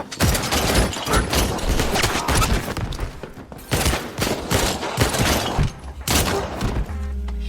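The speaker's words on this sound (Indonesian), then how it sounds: "mendengar suara baku tembak langsung pergi ke TKP" A film shootout with a violent massacre, rendered as loud, sustained bursts of gunfire, rapid volleys and scattered heavy thuds that fill the scene almost continuously before the shooting briefly breaks off near the end.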